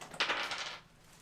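Dice are rolled for a roll-the-dice game, giving a quick close clatter and rattle that lasts under a second before fading into quiet.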